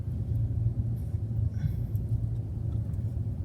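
Car rolling slowly along with a low, steady engine rumble and tire noise, close and continuous, no speech.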